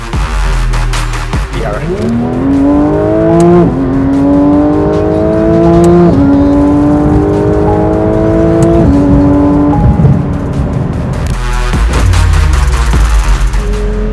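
A classic stick-shift sports car accelerates hard through the gears. The loud, close engine note climbs steadily, drops at each gear change and climbs again, with a brief tire squeal at the start.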